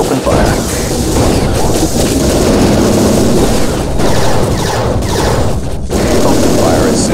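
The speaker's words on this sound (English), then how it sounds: "Switch to magnesium rounds and open fire." Rapid gunfire bursts from the Transformers Autobots game on Nintendo DS, loud and continuous with booms and crashes mixed into a dense battle din.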